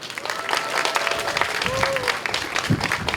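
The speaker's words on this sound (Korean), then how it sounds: "손병훈 우리 식품발전산업협의회 회장님하고 다 박수 한번 해주십시오" Audience applause at a groundbreaking ceremony for a food robotics and food-tech research support center, steady dense clapping throughout with faint speech and whistle-like tones mixed in.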